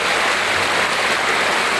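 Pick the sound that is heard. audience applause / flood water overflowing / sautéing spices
flood water overflowing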